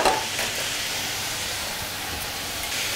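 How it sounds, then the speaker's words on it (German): White cabbage frying in a hot pan with salt and pepper, a steady close hiss and sizzle running unbroken and fairly loud, with no talk over it. "Weißkraut brät an."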